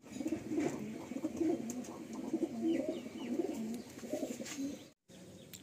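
A male and female Madrasi pigeon coo nearby in repeated soft, throaty rolling calls over a faint background hum, broken by a brief dropout near the end.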